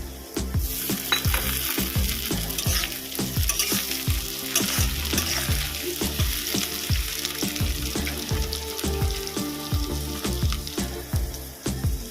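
Tomato added to onions frying in a pan for a Bengali fish-head muri ghonto, a continuous close sizzle with rhythmic stirring scrapes throughout, no talking.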